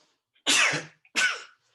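Two sharp sneezes about half a second apart, close and loud, in a quiet room during an interview.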